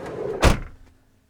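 The door of a 2019 Volkswagen California camper van is pulled shut with a single solid thud near the mic, preceded by brief movement and followed by silence.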